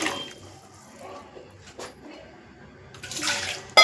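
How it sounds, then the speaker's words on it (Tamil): Water poured from a rinsed mixer jar into a pot of Tamil-style fish curry with tamarind, a soft splashing trickle that swells briefly near the end. "ஜார் அலசி தண்ணி,"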